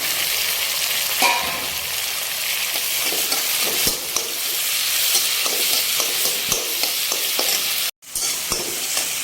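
Chopped tomatoes and onions frying in a pan for baingan bharta, a steady loud sizzle throughout with frequent scraping knocks from stirring and a brief break near the end.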